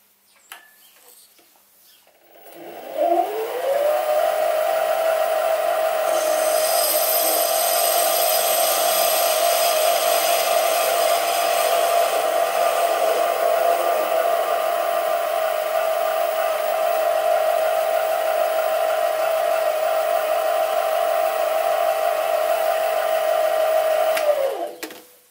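A metal lathe turns a cut with a high-speed steel tool bit fed in by the compound slide, a loud sustained whine that ramps up, runs evenly for about twenty seconds and spins down, with no speech.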